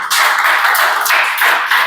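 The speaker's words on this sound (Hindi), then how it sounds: "जोरदार ताली बजाओ" A classroom of students clapping loudly during a police recruitment quiz lesson, a dense continuous patter of many hands lasting about two seconds, close and steady with no talk over it.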